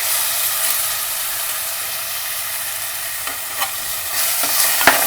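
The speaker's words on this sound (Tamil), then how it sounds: "இந்த தக்காளி நல்லா வதங்கட்டுங்க." Tomato paste sautéing in a clay pot for chicken kulambu, a steady close sizzle with soft stirring scrapes throughout and a few sharper spoon clicks near the end.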